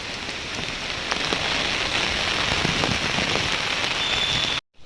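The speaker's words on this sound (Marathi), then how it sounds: "खूप जोराचा पाऊस येत आहे" Heavy rain pours down in a steady, dense hiss of drops striking a surface. It continues unbroken, then cuts off abruptly just before the end.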